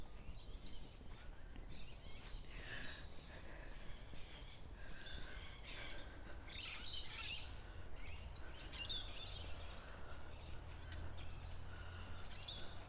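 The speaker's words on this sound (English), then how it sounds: "hearing the rainbow lorikeets" Rainbow lorikeets chatter and screech in a morning bush setting near a lagoon, a faint, scattered flurry of overlapping calls over a steady low ambient rumble, with no voices.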